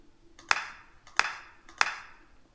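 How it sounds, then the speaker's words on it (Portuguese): Three crisp finger snaps from an EZdrummer 2 drum software sample ring out at a steady pace, each a sharp, bright click with a brief fading tail, close and dry, with no voices. "tenho também aqui o estalar de dedos"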